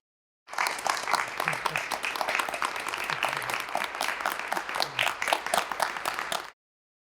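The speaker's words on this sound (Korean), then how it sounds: "각 후보 캠프에선 탄식과 환호가 교차합니다" Steady, dense applause from a crowd at a bar association presidential election announcement, continuous clapping for several seconds with some cheering mixed in, then cutting off abruptly.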